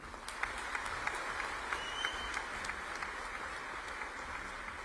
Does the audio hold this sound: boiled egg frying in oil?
no